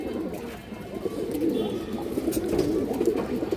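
Pigeons of fancy breeds coo continuously in a loft, a warm, overlapping murmur of soft throaty calls close by, with a few brief higher chirps and no talk.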